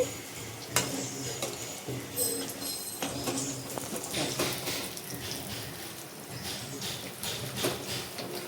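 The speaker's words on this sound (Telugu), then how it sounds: "బోండానికి బోండం కొద్దిగా ఫ్రై అయ్యేంత వరకు టచ్ అవ్వకుండా మనం ఫ్రై చేయాలి." Mysore bondas frying in oil: a soft, continuous bubbling sizzle with scattered clinks and scrapes of a utensil against the pan, fairly quiet and close.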